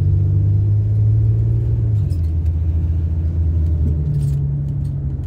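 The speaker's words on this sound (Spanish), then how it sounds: "ahorita aquí hay mucho tráfico" Street traffic on a busy road around midday, a steady close engine rumble with low tones that shift as vehicles idle and move off, and faint clinks on top.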